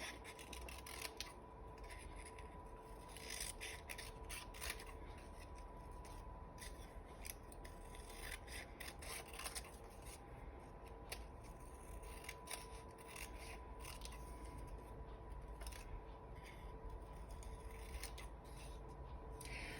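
Scissors snip steadily through a large printed paper saying, cutting it down to size, with continuous close crisp blade and paper rasping for the full stretch and no talk.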